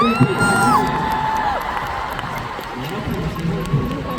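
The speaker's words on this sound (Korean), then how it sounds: "자 연진이에게 박수 한 번." Group of young people at an NCT Dream team mission event cheering and whooping together, loud bright shouts rising over a steady crowd roar, with talking mixed in throughout.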